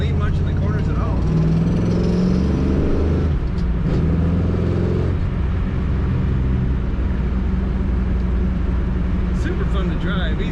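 1963 Chevrolet Bel Air two-door post engine pulling through a corner in third gear, a loud low rumbling drone that swells and eases, with someone talking over it throughout.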